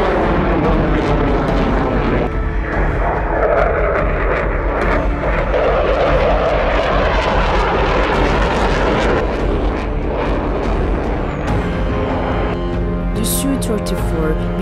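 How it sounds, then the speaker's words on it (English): A Russian Sukhoi Su-34 attack jet roars loudly and steadily as its engines pass close by, with a narrator speaking over the noise. "Number 2. Sukhoi Su-34. It's produced by Russia."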